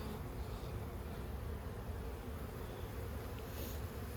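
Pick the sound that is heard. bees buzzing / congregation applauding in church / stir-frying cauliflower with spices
bees buzzing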